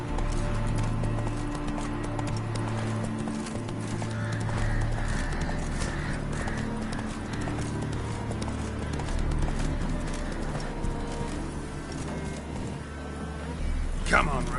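Rhythmic hoofbeats of the horse Roach galloping in a video game on PS4, steady clip-clop throughout with occasional snorts and game ambience underneath.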